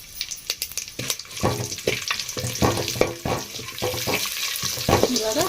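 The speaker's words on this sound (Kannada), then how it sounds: "ಎಣ್ಣೆ ಬಿಸಿ ಆಗೈತಿ ಈಗ ಸ್ವಲ್ಪ ಲೈಟಾಗಿ ಫ್ರೈ ಮಾಡ್ಕೊಂಡು ಮೆಣಸಿನ್ಕಾಯಿ ಹಾಕೊಂಡ್ರಿ" Green chillies and spices frying in hot oil in a home kitchen for egg biryani, with a steady crackling sizzle and repeated sharp clatters of a spoon stirring the pan. A voice may murmur faintly beneath.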